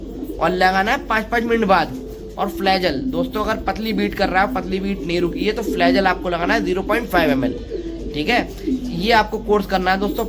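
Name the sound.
pigeons cooing in a loft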